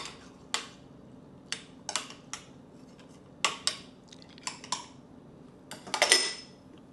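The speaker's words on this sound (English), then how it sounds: "Give it a gentle stir." A spoon stirs hibiscus tea in a cup, giving a dozen or so light, sharp clinks against the sides in an irregular rhythm over a quiet background, ending in a quick flurry.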